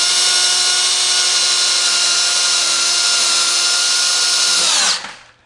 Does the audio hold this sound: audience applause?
no